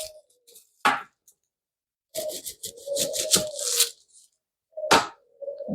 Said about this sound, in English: Now for our onion, we're going to cut off the sides.